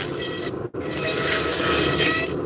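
Wood being abraded by hand in steady rasping strokes near the gear teeth of a turned piece, a continuous close scratching broken by one brief pause.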